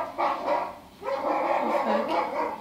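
A dog barks and whimpers in a scene from The Last of Us TV series, two bursts of loud, close yapping with a short gap between them, with voices talking underneath.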